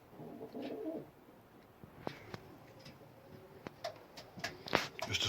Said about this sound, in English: And you can see, nice pigeon.